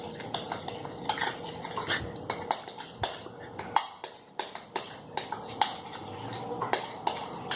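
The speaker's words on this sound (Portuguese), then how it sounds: "Agora eu vou pegar aqui a colher e vou mexer." A spoon stirs a glue slime mixture in a bowl, making repeated sharp clinks and scrapes against the container in an uneven rhythm that continues throughout, close and fairly loud.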